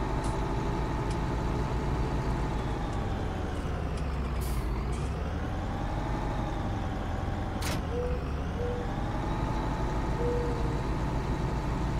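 A Claas Axion tractor in the farming video game Farming Simulator 19, its engine droning steadily and loudly with shifting pitch as it revs and settles, punctuated by a few short hissing bursts.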